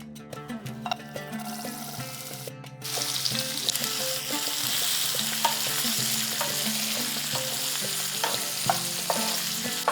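Long-sliced onions, two large ones, hit a pan and start frying with a sudden loud sizzle that settles into a steady, close crackle, with occasional stirring clinks over it.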